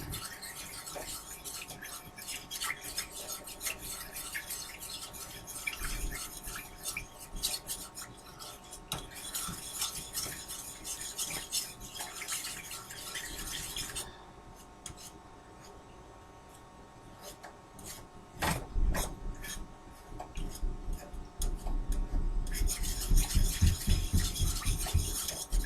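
Sausage gravy stirred in a pan until it thickens, a spoon scraping and swishing in a steady rhythmic pattern, close and fairly quiet, with a brief pause midway and louder scraping near the end.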